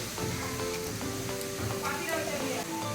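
Shredded potatoes fry in hot oil with a steady, dense sizzle that holds evenly throughout, close by, with faint clinks of stirring mixed in and a low hum behind.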